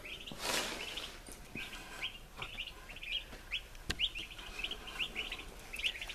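Turkey poults in a garage brooder give a rapid series of high, thin chirps and peeps, close and fairly clear over faint background rustle, with a couple of soft thumps.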